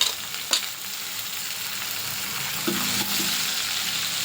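Chopped onion and a couple of cut green chillies fry in hot oil with garlic paste and asafoetida for palak dal khichdi, giving a steady close sizzle with a few stirring scrapes of the spoon against the pan.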